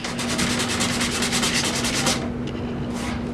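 Folded 120-grit sandpaper is rubbed by hand into corners of a wood piece, making loud, close, rhythmic scratchy strokes in quick succession that stop after about two seconds, followed by a couple of lighter passes.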